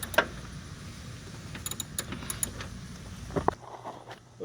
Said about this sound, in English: I'm just using a 3/8 ratchet, 13 millimeter. And we're just working these out of here.